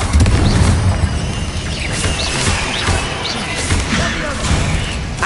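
Bombarda spell blasts in Hogwarts Legacy, loud booming bursts over a busy, noisy combat scene, with several impacts scattered through the clip amid chaotic background effects.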